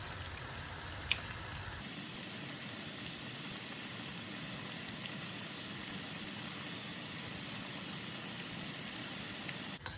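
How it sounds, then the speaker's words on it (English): Vegetable manchurian balls fry in hot sunflower oil with a steady, soft bubbling sizzle that stays even throughout, with a brief louder crackle early on and no talk over it. "Just some hot sunflower oil, and I'm going to start frying these off for a couple of minutes until they're nice and golden."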